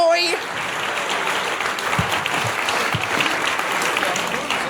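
Loud, steady applause from a television game-show audience greeting a performer, opening with a brief shouted voice and continuing as a thick wash of clapping.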